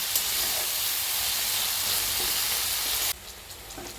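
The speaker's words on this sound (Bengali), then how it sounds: "ভাজা ভাজা হবে, সব একসাথেই ভাজাবে।" Fish fat sizzles and fries in a pan while making Bengali fish-oil curry, a steady, close crackling hiss that drops slightly in level near the end.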